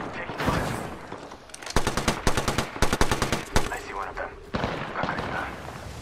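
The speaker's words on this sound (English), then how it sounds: "The enemies are shooting at me." Rapid automatic gunfire from enemies in Apex Legends cracks in tight, evenly spaced bursts, loud and close, over a busy game soundscape.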